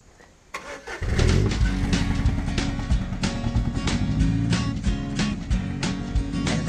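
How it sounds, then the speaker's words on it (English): Small 4-cylinder truck carrying a big load of wood starts up, then its engine runs steadily with a mid-pitched drone and slight revving, close and continuous with no talking. "I'm gonna show you a little bit how it's like driving this small truck with this big load on it."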